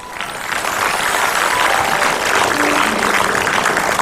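Studio audience applause on an Indonesian comedy talk show, a dense steady wash of clapping that holds loud and even throughout.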